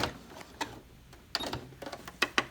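Short bursts of a sewing machine back stitching over elastic on a fabric face mask, a few quick mechanical rattles separated by brief pauses, close and moderately loud.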